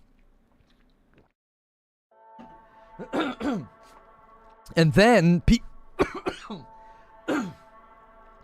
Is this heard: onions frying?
no